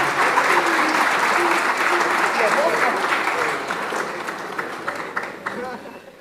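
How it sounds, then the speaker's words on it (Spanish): After a philharmonic orchestra plays a piece, the concert audience applauds the pianist with a sustained, dense round of clapping that tapers gradually toward the end, with a few murmuring voices mixed in. "Aplauso para la maestra, por favor."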